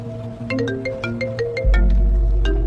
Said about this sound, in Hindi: राणा, ये तुम्हें क्यों फोन कर रहा है?